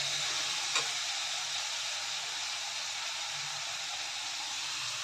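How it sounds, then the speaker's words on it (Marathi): Noodles tipped into a pan of sautéed vegetables for veg hakka noodles: a steady close sizzle and hiss throughout, with one brief clack as they go in and no talking. "आता यामध्ये आपण नूडल्स घालूया."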